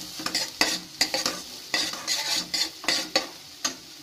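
Onion and beans sautéing in melted butter for a mixed vegetable soup, with a spoon stirring the pan in quick, repeated scraping strokes over a steady close sizzle, no voices.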